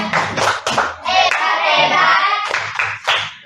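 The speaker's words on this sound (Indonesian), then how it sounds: "Oke, beri tepuk tangannya semuanya." A group claps in patterned bursts during a coding and artificial intelligence training session. Sharp, close hand claps come in rhythmic clusters, and voices chant along between and over them.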